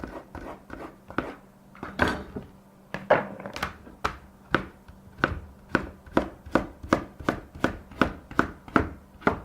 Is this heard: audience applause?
no